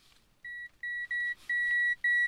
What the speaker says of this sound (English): Just let it go beep